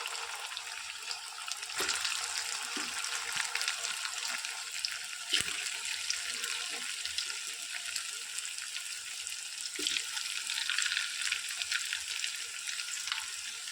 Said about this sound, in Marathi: आता रोडग्यांना आपण डीप फ्राय करून घेऊयात.